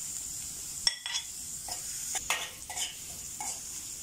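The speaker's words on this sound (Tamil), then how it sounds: "கொஞ்சம் வதக்கி விடணும்." Bitter gourd tossed with curry leaves in a pan gives a low, steady sizzle, broken by a few soft scrapes and taps of a spoon stirring, fairly quiet and close, with no talking.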